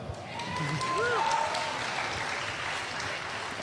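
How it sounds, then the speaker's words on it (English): Moderately faint, steady applause from an audience at a BlizzCon 2009 Diablo 3 Q&A panel, an even patter of many hands with a voice briefly heard over it. "You can clap, it's okay"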